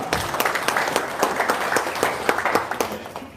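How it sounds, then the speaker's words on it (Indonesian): Audience applause at an indoor gathering, a dense run of hand claps with distinct sharp beats at a quick, uneven pace, close and lively, lasting the full span without talk. "Wow, tepuk tangan dulu dong."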